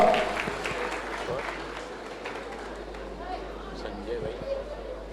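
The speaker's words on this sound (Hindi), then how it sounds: "एक बार जोरदार तालियों के साथ में" Loud applause from a crowd at a welcome ceremony for a Girnar pilgrimage walk, a thick rattle of clapping that starts strong and carries on with a murmur of voices underneath.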